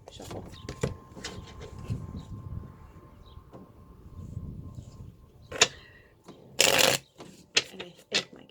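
Cards being shuffled in short riffling bursts, soft at first and then a couple of louder sharp riffles near the end, with some faint background sound.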